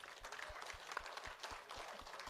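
An audience clapping for Jangalidas Maharaj, moderate applause with a rhythmic beat, fairly faint and continuous for a couple of seconds.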